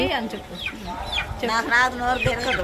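Chickens cluck and squawk nearby, a dense overlapping chorus of clucks, with a person's voice mixed in.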